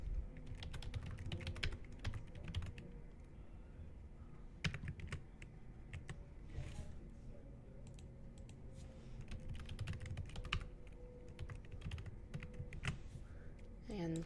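Keys clatter on a computer keyboard in bursts of quick taps as a new Google password is typed, close and fairly quiet, with brief pauses between runs of keystrokes.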